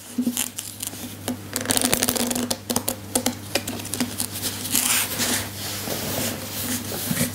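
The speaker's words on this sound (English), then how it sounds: "we're going to give the cards a shuffle" Playing cards shuffled by hand, a rapid run of dense papery riffles and flutters with brief pauses between bursts, steady and close with a constant low hum beneath and no talking.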